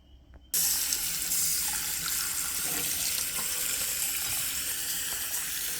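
Tap water gushes steadily over freshly harvested ginger root, starting abruptly after a brief quiet moment and continuing loud and close as a constant splashing rush.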